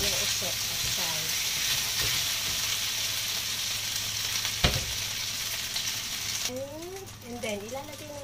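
Pork stir-frying in a pan with a steady sizzle and scraping stir noises, a sharp clunk midway, and a voice speaking in the last seconds.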